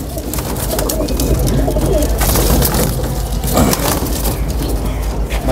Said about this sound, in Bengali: ভালো একটা কবুতর দেখাই